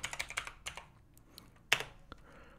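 Close, crisp keystrokes on a Windows 10 computer keyboard, a quick run of taps followed by a pause and then a few isolated sharper key presses.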